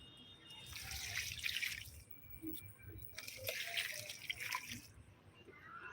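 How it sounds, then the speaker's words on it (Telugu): Water poured onto garden plants, a faint splashing trickle in two bursts with quiet dripping between, close by and without talk. "నేను అన్నిటికీ ఇచ్చేసుకుంటాను ఈ వాటర్ మొత్తం కూడా"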